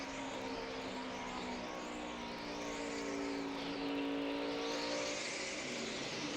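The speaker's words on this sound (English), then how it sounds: "That's wheel spin." A NASCAR stock car at Dover in 2009 spins its wheels and revs, a sustained loud engine roar with rising and falling pitch sweeps as cars pass, heard without talk.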